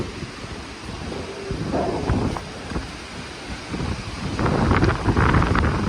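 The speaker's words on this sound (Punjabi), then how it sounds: "ਇਹ ਹਵਾ ਬਹੁਤ ਤੇਜ਼ ਆ ਬਹੁਤ ਜ਼ਿਆਦਾ ਤੇਜ਼ ਹਵਾ ਲੱਗ ਰਹੀ ਆ" Strong, cold mountain wind on a bridge over a river buffets the microphone in rumbling gusts that swell louder toward the end, with no voices.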